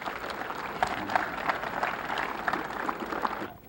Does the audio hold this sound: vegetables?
no